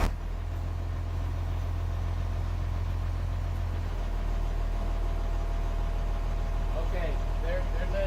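A converted bus engine runs at idle with a steady, deep, droning rumble that holds throughout. Faint voices come in near the end.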